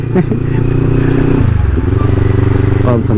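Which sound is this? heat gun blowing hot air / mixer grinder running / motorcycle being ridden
motorcycle being ridden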